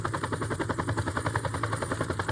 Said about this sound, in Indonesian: pasukan Vietnam Selatan itu kabur menggunakan helikopter.